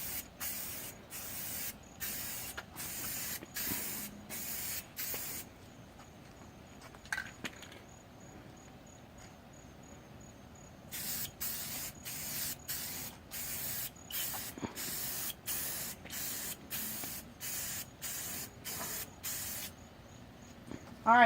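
Aerosol spray paint on a car's rocker panels and fender flares: repeated short bursts of hissing spray in steady, even passes, then a quiet pause with faint handling noises, then another run of rhythmic spray bursts, close by.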